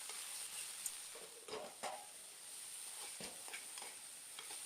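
Baby jackfruit pieces shallow frying in oil over low heat, giving a soft, steady sizzle with a few faint stirring clicks, quiet and close.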